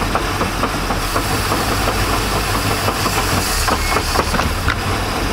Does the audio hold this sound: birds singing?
no